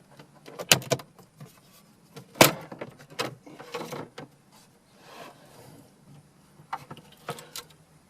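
Plastic dash trim hood prised up and pulled off a Ford Fiesta, giving a few sharp, close clicks and snaps with softer rustling handling noises between them.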